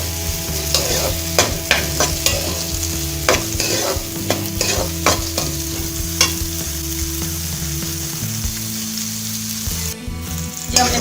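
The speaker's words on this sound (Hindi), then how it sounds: "आपने बस प्याजों को हल्का सा फ्राई करना है" Sliced onions sizzle in hot oil in a pot while a spoon stirs and scrapes them, with loud rhythmic clanks over a steady frying hiss, close up, for samosa filling.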